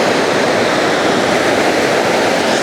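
The Yamuna river rushing between mountains, a loud, steady broadband roar of flowing water with no pauses and no voices.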